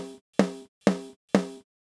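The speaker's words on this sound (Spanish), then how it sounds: "Aquí lo que tengo es el micrófono de arriba de un snare" Snare drum hits recorded from the top microphone, four sharp strikes spaced evenly with short ringing decays, close and dry with nothing else around them.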